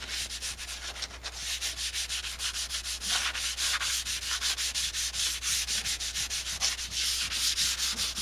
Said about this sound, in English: I hate sanding, I really do